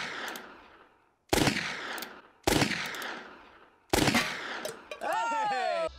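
Gunfire from someone shooting: four loud, sharp bursts of rapid shots, each ringing out and decaying before the next, followed by a brief whooshing, sweeping sound.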